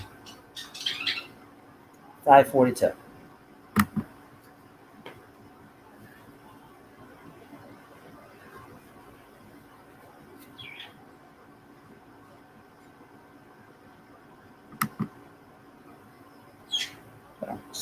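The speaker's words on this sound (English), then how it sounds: "just hear the birds chirp" Scattered short bird chirps and squawks come in brief bursts over a quiet outdoor background, fairly close, with long pauses between calls.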